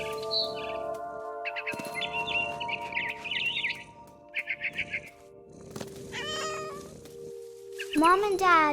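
A cat's meows and caterwauls in the game What Remains of Edith Finch, several short strained cries over low ambient tones, with chirping bird-like calls mixed in and a narrator's voice speaking at times.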